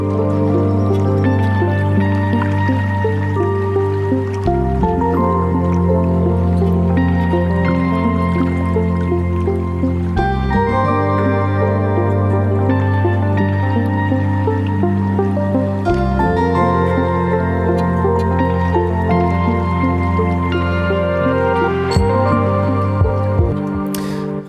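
Music breakdown with layered synth lead lines and Rhodes electric piano over a steady bass and beat pattern, loud and continuous throughout, with brief drops in the low end between sections.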